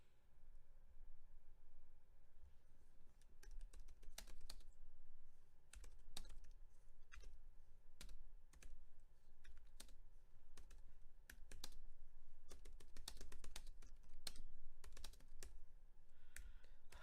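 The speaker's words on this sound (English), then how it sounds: "I hate typing on this keyboard." Steady, close typing on a computer keyboard, with rapid clusters of key clicks and brief pauses running the whole way through, no voices.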